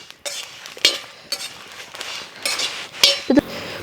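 Spices for a masala being stirred and roasted in a pan for a bamboo-cooked tapioca and chicken dish, heard as intermittent scraping and clinking of a spoon against the pan with occasional sharper metallic taps, close and clear.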